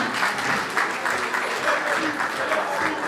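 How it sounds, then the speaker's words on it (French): Wedding reception guests applaud together, a continuous room-filling patter of hands with slight pulsing swells, moderately loud and unbroken across the moment. "On peut vous applaudir"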